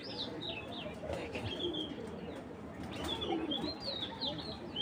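A pair of Afshan racer pigeons cooing softly close by. Faint chirpy calls rise over a steady background hiss, and there is no speech.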